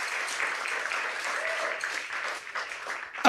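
An audience claps together for a round of applause at a gathering, a dense, steady clatter of many hands lasting several seconds without a break.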